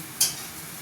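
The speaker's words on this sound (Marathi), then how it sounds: "हे बघा, ते सगळे एक एक करून सगळे पुऱ्या मी तळून घेणार आहे." Puris frying in hot oil in an iron wok, a single quick sizzling splash over a low steady bubbling background, brief and fairly close.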